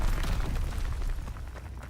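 Mortar shells exploding in the World War II shooter Call of Duty WW2, a heavy continuous rumble of booming blasts that slowly fades, with no voices.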